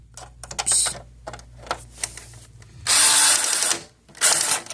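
Screwdriver and loose parts rattling and clicking while working on an opened Magnavox DVD VCR combo, with bursts of close ratcheting and scraping, the longest near the middle, between quieter handling sounds.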